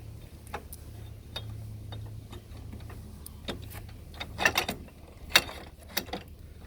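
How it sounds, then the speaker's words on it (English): Trailer jockey wheel wound in by hand, giving faint irregular ratcheting clicks and mechanical ticks over a low hum, with a few sharper clacks near the end. "all I've got to do is wind the wheel in"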